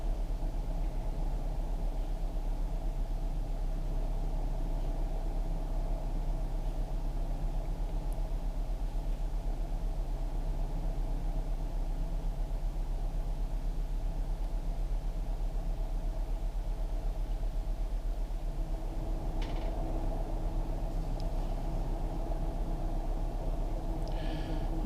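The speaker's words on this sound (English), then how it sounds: "Engine RPM is a fast idle." A Calidus gyrocopter's engine runs at fast idle on the ground, giving a steady, even drone with a constant low hum underneath. It continues unbroken throughout, with a few faint clicks near the end and no voices.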